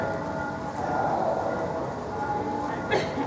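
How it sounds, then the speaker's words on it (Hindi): A passing train rumbles steadily nearby, a broad continuous roar filling the background throughout, with a brief brighter burst near the end. "इधर से रेलगाड़ी आती है"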